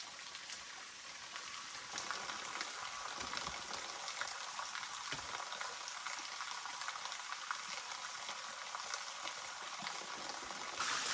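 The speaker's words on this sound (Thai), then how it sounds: "ตอนนี้ผมต้มน้ำไว้หม้อหนึ่งครับ เดี๋ยวรอน้ำเดือดผมก็จะใส่เส้นสปาเกตตี้ครับ" Steady bubbling and hissing of water boiling in a pot over a campfire in a forest, continuous and close, with a faint crackle now and then.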